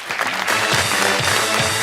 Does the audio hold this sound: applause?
yes